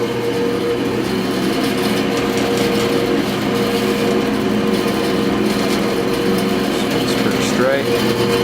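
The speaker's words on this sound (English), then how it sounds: "Motor sounds smooth." A 1976 Powermatic 141 14-inch band saw motor runs with a smooth, steady hum, close and constant, with someone talking over it.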